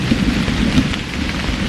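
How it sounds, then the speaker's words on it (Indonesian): Heavy rain pours steadily at a camping spot, a dense, constant hiss of drops drumming on surfaces close by, with a low rumbling undertone and no voices throughout. "harinya hujan."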